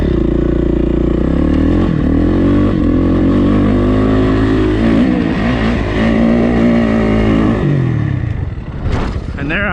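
A dirt bike engine revs hard and roars close by while the rider jumps, its pitch rising and falling with throttle and clutch blips and a clattering drop near the end.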